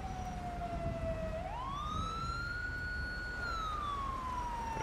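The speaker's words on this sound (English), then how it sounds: "Here is the ambulance arriving." Ambulance siren in GTA 5 on a snowy road, a steady tone that climbs in pitch, holds, then slowly falls as the vehicle arrives, loud over continuous low engine and road rumble.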